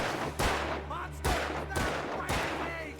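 Gunfire in the horror video game Alan Wake, four heavy booming shots spaced about a second apart over a low droning background, loud and close, with faint voices in between.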